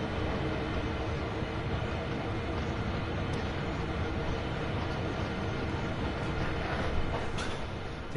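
A train runs along the Cane Creek branch line in the Train Sim World video game, giving a steady, dense rumble of wheels and rolling stock with faint occasional clicks, continuous and without talk.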